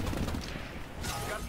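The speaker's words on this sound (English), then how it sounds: "Lunatic just chain guns Chicken Run." Chain gun fire in a capture-the-flag video game, a dense, continuous rattle of rapid shots at fairly loud level, mixed with game noise and a surge of louder bursts near the end.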